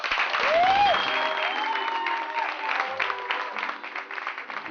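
Studio audience applause welcoming a singer on a Turkish television show, a bright burst of clapping with a rising musical whoosh and sustained tones over it, fading somewhat toward the end.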